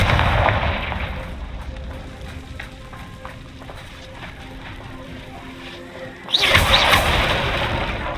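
A Confringo fire-blast spell explodes in Hogwarts Legacy, a loud, roaring burst that fades into rumbling game ambience before a second sharp, bright blast flares near the end, close and sustained, with no speech over it.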